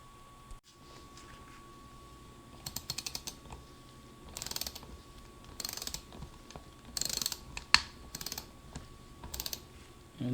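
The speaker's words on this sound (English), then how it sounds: "this is a 15mm socket on a ratcheting breaker bar" A ratcheting breaker bar with a 15mm socket clicking in short repeated bursts during a 2002 Honda Odyssey automatic transmission teardown, crisp close ratchet ticks separated by quiet pauses under a steady low hum.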